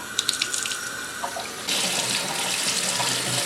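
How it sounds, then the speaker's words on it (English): Hot water runs from a tap over a dyed disc golf disc during rinsing. A few soft clicks and handling sounds come first, then the faucet opens into a loud, steady splashing rush that fills the rest of the clip. "especially if you run it under hot water like I am now"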